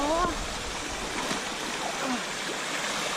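Stream and small waterfall on a mountain trail, water rushing and splashing steadily up close, with brief voices early on.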